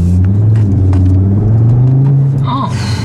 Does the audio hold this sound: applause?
no